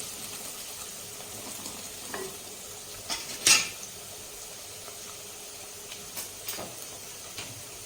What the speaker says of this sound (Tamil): கொத்து கருவேப்பிலை சேர்த்துக்கலாம் எல்லாத்தையும் நல்லா கலந்து விட்டுக்கலாம்